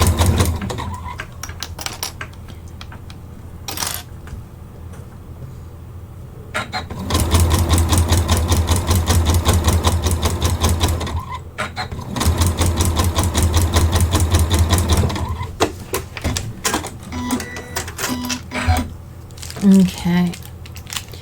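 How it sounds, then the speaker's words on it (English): A sewing machine stitches fabric and ribbon together in fast, steady runs of rapid mechanical clatter, close and loud, broken by pauses with small handling clicks and rustles. "So I'm just stitching my fabric and that ribbon together, which will give us a beautiful edge to then embroider with."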